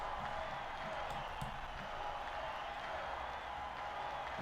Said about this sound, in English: the sound of the crowd just like constantly being in the background